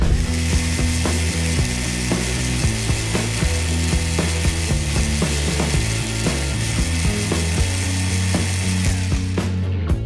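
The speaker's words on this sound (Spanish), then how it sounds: "¿El vecino con un taladro?" A neighbour's power drill runs loud and close, a continuous mechanical grinding with fast, rhythmic ratcheting clicks that carry on throughout with no speech.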